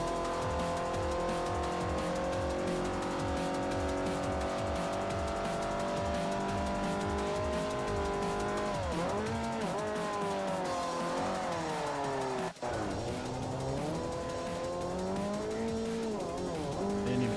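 Race car engine in Forza Motorsport 4 with manual transmission, a steady high-revving drone whose pitch drops and climbs through downshifts, with tire squeal, sustained loud throughout.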